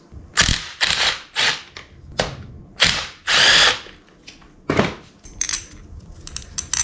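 Tools removing the intake manifold from a 1985 Yamaha motor, a series of sharp bursts of power-tool whirring and ratcheting clicks with clinks of metal parts between them, close and loud.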